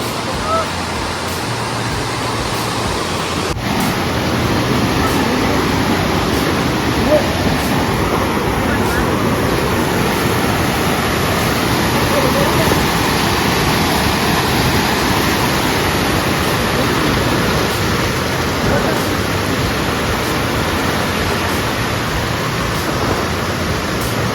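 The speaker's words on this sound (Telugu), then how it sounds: "చూడండి దుంప వాటర్ ఫాల్స్" Dumpa Valasa waterfall near Maredumilli, Andhra Pradesh, rushing in a loud, steady broadband roar that fills the whole stretch without a break, with faint voices beneath the water.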